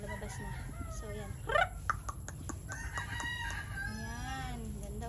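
A White Kelso rooster crows once mid-clip, fairly close and clear, surrounded by clucking from farm fowl, while someone talks faintly in the background.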